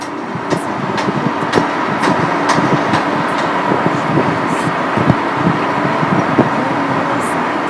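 Tram passing beside a building, a loud, continuous rumble of rail traffic with repeated clicks and clacks from wheels over rail joints, close by and steady throughout, with no talking.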